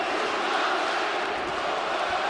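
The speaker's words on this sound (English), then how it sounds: "Here comes the crowd cheering on Stoyan." Crowd at a GLORY 89 kickboxing fight cheering for Stoyan Koprivlenski, a steady, dense roar of many voices filling a large arena without a break.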